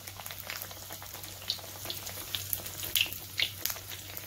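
Bánh tiêu dough fries in a small pan of hot oil, a steady close crackling sizzle with scattered sharp pops and spits throughout.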